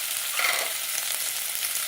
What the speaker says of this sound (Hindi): तो तेल हमारा गर्म हो चुका है, इसमें हम डालेंगे, प्याज को फ्राई कर लेंगे।